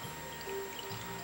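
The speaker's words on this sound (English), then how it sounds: "So I'll show you how this pours." Dark beer pours from a bottle into a glass, a soft, steady gurgling trickle heard close up over a constant background hum, brief and unaccompanied by talk.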